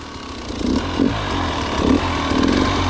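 A motorcycle engine idles while hot with its radiator fan switched on, a steady close low rumble with slight pulsing swells and no talk.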